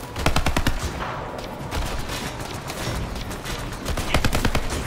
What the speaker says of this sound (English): Let's switch over to the combat rifle.